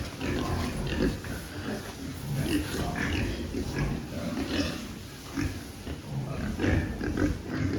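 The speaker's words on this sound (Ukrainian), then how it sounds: "Ось такі свинки наші." Pigs grunting and oinking continuously at close range, a busy crowd of animals with overlapping snorts and squeals throughout.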